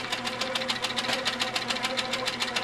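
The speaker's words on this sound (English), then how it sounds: "So here I am very carefully stitching around the template" A sewing machine stitches around a quilt template in a rapid, even mechanical clatter, steady and close throughout, with no talking.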